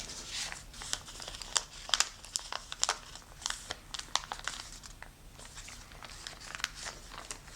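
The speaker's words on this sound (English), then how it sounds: "We are going to fold this point to match this and create" Stiff origami paper for a kusudama crinkles and creases close by, a steady run of crisp rustles with sharp crackling bursts as the sheet is pressed into folds, no voices.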